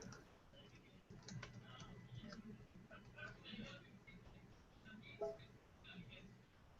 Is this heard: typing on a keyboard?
yes